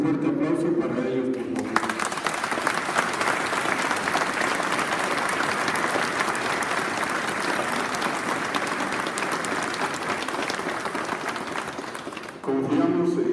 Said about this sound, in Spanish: con un fuerte aplauso para ellos